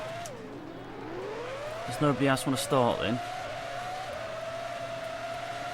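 Formula One race cars in the video game Formula One 2003 drone on a steady engine tone, then a burst of revving climbs and falls in quick pitch sweeps, while someone talks over the engine sound.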